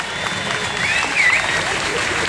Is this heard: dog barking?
no